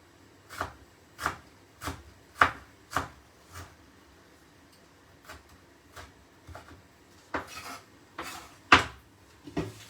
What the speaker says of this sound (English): bunch them all together, and then we're going to just turn it on the side and slice that across